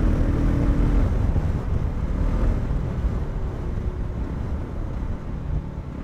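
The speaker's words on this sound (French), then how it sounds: "Accélération à fond." Voge 300 Rally motorcycle under full acceleration on a country road, heard as a loud, rough low roar mixed with heavy wind buffeting against the microphone that eases slightly over several seconds.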